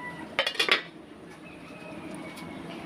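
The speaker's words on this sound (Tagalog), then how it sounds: "nakahanap pala ako ng pantakip, no, sa lumang kasirola namin" A metal lid is set onto an old cooking pot in a home kitchen, a quick cluster of three or four bright clanks up close, followed by quiet room tone and a faint simmer.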